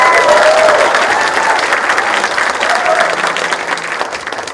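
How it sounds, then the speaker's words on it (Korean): Audience at a political party members' convention event applauds warmly, a dense steady clapping that fills the space and slowly tapers, with faint crowd murmur beneath. "임기가 일주일 남짓 남은 우리 김준영 원대표 권한대행, 당대표 권한대행께 뜨거운 박수 부탁드립니다"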